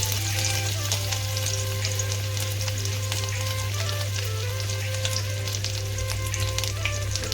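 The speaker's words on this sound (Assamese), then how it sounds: "আদাকেইটাকে অলপমান ভাজি লৈছোঁ।" Ginger sizzles and fries in hot oil in a kadai, a steady close crackling hiss that runs without pause over a low constant hum, with no talking.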